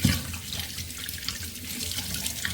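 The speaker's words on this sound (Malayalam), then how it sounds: "വെള്ളം നിറച്ച് വെച്ചു." Tap water runs steadily into a pot, a continuous close splashing rush of filling water with no talk over it.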